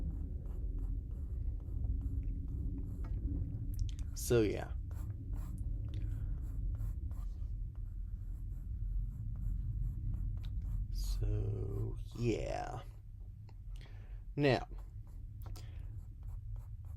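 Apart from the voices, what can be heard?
HB pencil drawing on paper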